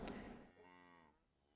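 A single cow moos in a video game, a drawn-out bellow rising out of a brief noisy burst and then tapering off, faint and close.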